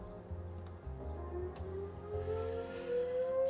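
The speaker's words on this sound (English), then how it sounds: "Excuse the tornado siren. It's a test." A tornado siren test in Oklahoma wails steadily in the background, its long tone rising slowly in pitch as it winds up, continuous and moderately loud with a low rumble underneath.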